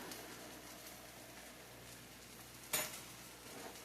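Onions being stirred in a pan on low heat at home: a faint steady sizzle throughout, with one sharp scrape or clink of the utensil against the pan near the end.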